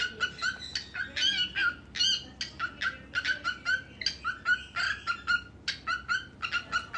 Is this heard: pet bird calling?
yes